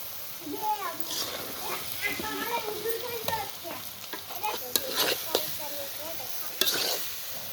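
Egg noodles are stirred in a sizzling pan over a steady fry, with scraping strokes and a few sharp clinks while someone talks over the cooking outdoors.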